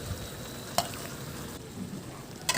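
Vegetables including bitter melon and long beans being stirred in a pan, a quiet sizzle underneath with two sharp scraping clatters of the spoon, one early and one at the end.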